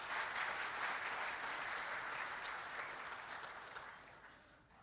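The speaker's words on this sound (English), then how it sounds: "So round of applause for all the chipmates." A large audience applauds warmly at a corporate engineering event, with dense, steady clapping that holds strong and then slowly tapers off toward the end.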